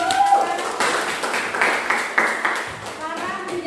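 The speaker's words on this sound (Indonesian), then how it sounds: "Oke, tepuk tangan." Schoolchildren clapping hands in a classroom, a rhythmic patter of many hands at a moderate pace mixed with children's voices chattering throughout.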